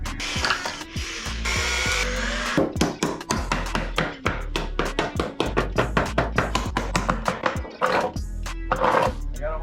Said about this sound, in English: Gonna have to put some nails in that.